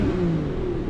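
A BMW V12 engine revs up close and loud, a smooth, rising mechanical whir held steadily across the moment.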